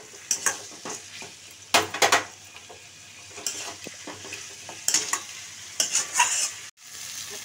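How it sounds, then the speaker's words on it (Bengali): Soaked dal frying and being stirred in a pan for a papaya and egg curry. Steady sizzle runs throughout, broken by repeated loud scraping stirring strokes at an uneven rhythm. "ডালটা একটু ভাজা হয়ে গেছে"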